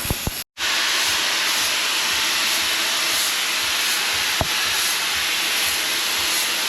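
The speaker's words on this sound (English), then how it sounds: "I'm just using my angle grinder for the job." Angle grinder cutting into a steel lower control arm suspension bracket on a third-generation Toyota Tacoma, a loud, steady high-pitched whine and hiss running continuously after a brief cut at the start, close up with no voices.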